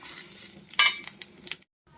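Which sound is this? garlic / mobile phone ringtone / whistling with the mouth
garlic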